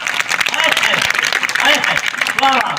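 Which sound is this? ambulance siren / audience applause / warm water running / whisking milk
audience applause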